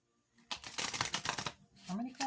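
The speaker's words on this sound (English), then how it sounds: "Okay, let's do a little shuffle." A quick burst of rapid papery riffling as a thick 68-card oracle deck is shuffled, close and crisp, followed by a brief voice.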